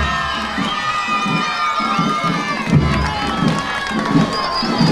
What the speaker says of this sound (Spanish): Fuerte, fuerte el aplauso.